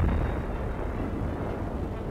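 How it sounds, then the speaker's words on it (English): Heavy naval shells from the crippled German battleship Bismarck burst near a British warship at sea, a continuous loud, low rumbling roar of blasts with no clear gaps. "Shells from the doomed Nazi battleship continue to burst."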